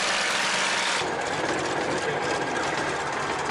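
A P-40N Kittyhawk's piston engine runs before takeoff as a loud, dense, continuous drone with a rough pulsing texture that steps up in intensity after the first second.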